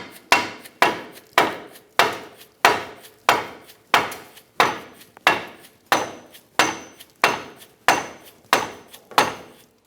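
A hammer strikes a steel punch to drive a lower bolt out of the air spring mounting on a 2007-2017 Ford Expedition, with about fourteen sharp, ringing blows at a steady, brisk rhythm, loud and close with no talk.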